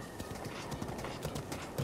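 Steady, fairly soft hoofbeats from a galloping horse in Zelda Breath of the Wild run without a break for a couple of seconds, with no talking.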